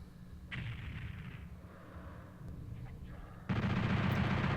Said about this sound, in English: So I'm going to shoot this imp up here.